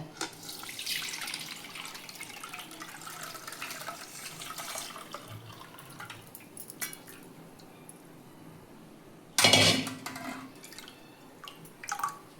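Soaked kurdai draining in a strainer, with soft, faint trickling and dripping water close by and a brief louder splash of water near the end.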